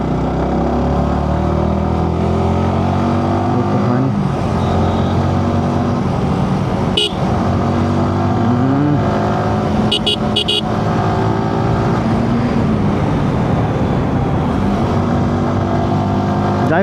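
Steady engine drone of a motorcycle ridden along a road near Kamarpukur, with passing traffic and a few brief horn toots partway through; wind and road rumble fill the background continuously.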